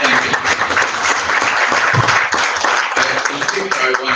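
Audience applause for a university conference panel, a dense, steady wash of many hands clapping with some talk and cheering mixed in, loud and sustained throughout.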